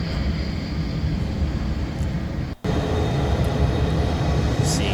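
A United Airlines jet taxiing out from the gate after pushback, a loud steady engine roar with a broad rumble that holds for the whole stretch, broken only by a brief dropout near the middle.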